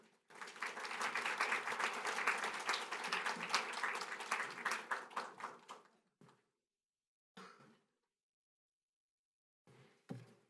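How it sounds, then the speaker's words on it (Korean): A church congregation applauds a pastor at a Sunday service, steady clapping for about six seconds that fades, followed by a few isolated knocks. "우리 목사님 또 격려하는 의미로 우리 큰 박수로 맞이하겠습니다"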